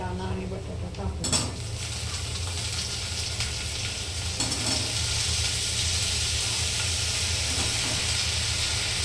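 Peas and potatoes are dropped into a pan of fried onion, giving a sharp clatter at the start, then a steady close sizzle with occasional utensil scrapes against the pan.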